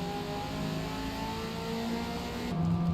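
A race car engine at full throttle in Forza Motorsport, a steady, sustained roar with whining tonal harmonics that shift slightly near the end as the driver eases off.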